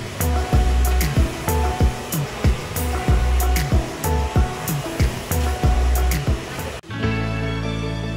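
A hair dryer blows steadily at a hairdresser's salon during a haircut, its broad rushing airflow chopped by repeated short bursts and pulses, then switching to a smoother continuous whir near the end.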